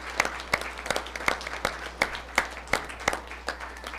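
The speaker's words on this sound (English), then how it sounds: "Let's give them one more round of applause." Audience applause at a school board meeting: a sparse, fairly even run of distinct claps from a small group, steady and moderately close for about four seconds.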